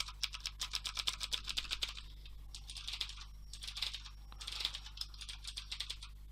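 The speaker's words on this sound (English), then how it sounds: "here's the sound of the mechanical keyboard." Rapid clicky keystrokes on an EasySMX mechanical keyboard with blue switches and a palm rest, typed in bursts with short pauses, close and clear over a steady low hum.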